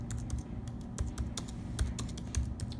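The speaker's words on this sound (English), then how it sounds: "Let me just type that in the search bar." Fast, steady keystrokes clatter on a computer keyboard as a search query is entered, with crisp close clicks and no voices.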